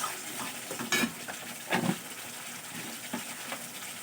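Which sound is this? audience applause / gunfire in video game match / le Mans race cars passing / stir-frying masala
stir-frying masala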